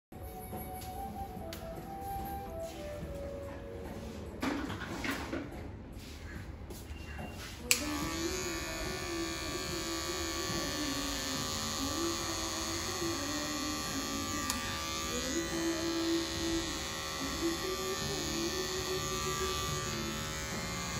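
An electric razor at a barber's chair starts up and runs with a steady close buzzing hum, preceded by a few seconds of quieter handling and faint talk.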